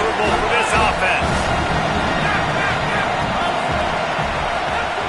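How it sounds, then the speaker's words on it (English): Stadium crowd in the NCAA football video game: a dense, continuous roar of a large crowd, loud and steady throughout, with faint bursts of babble inside it. "This crowd trying to make life miserable for this offense."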